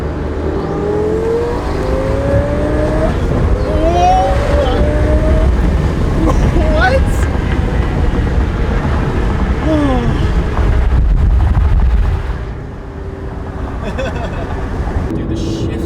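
A 1300 whp twin turbo Lamborghini accelerating hard from inside the cabin, loud continuous engine roar rising through several gears with audible shift breaks, ending with a brief drop in volume; people talk over it.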